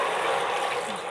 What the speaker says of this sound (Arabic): دي الميه السخنه عندي هنا هنزل بيها